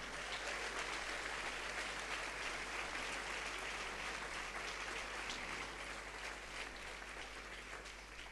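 A church congregation gives sustained applause, a dense wash of many hands clapping at steady volume for about eight seconds, somewhat distant and with no voice over it.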